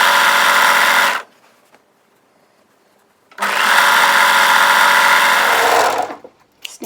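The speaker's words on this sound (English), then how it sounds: "I'm overlocking on the front" An overlocker serges the front seam of a Maisie dress in two loud, steady runs of fast mechanical whirring, split by a couple of seconds of near silence, with a brief rattle just after the second run stops.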